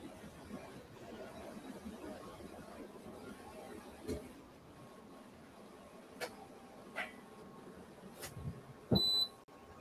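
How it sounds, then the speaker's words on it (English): A short electronic beep from a laser machine signals its lid is fully closed, sounding near the end, clear above a quiet hum and a few soft clicks and knocks. "if you hear it beep like that, then the lid is at pushed all the way."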